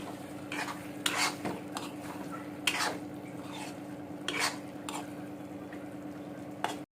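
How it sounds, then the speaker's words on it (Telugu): Eggplant, tomato and egg curry gets stirred in a metal pot, soft repeated scrapes and a few sharper spoon clinks against the pot over a faint steady bubbling, no talking. "ఒకసారి నెమ్మదిగా కలుపుకోవాలి."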